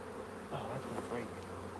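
Honeybees buzzing steadily and loudly during a live hive inspection on a small farmstead, a dense continuous drone close by with no talk.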